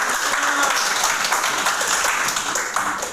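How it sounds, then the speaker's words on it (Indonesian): A group of children in a classroom applauds, steady clapping filling the space for a few seconds while voices carry over it. "tepuk tangan untuk teman-temannya"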